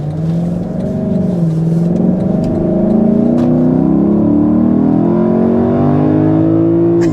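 A Lexus LC 500 convertible's V8, heard with the top up, revs loud and near, its droning tone climbing steadily in pitch as it accelerates without a break, with no talking.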